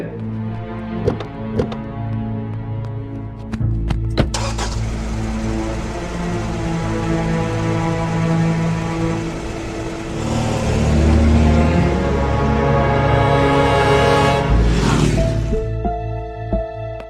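A car engine runs and revs up loudly and close, with a surge of acceleration and rising engine tones over about seventeen seconds, plus a few knocks and clicks early on.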